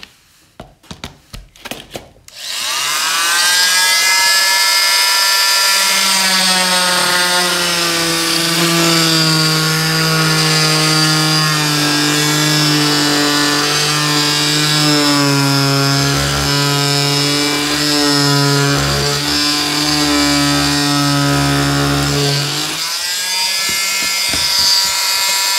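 An oscillating multi-tool, or renovator, cuts off a small corner with a loud, steady, buzzing whine held for about twenty seconds, after a few short clicks and starts.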